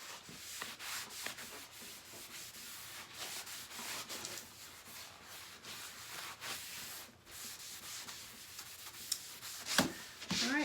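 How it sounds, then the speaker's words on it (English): Wax is rubbed by hand onto a chalk-decorated surface, producing a continuous close, quiet scrubbing and rubbing sound with irregular strokes and a few sharper scuffs near the end. "So I'm going to make sure we cover it really well with the wax, and then we're going to just wipe it off."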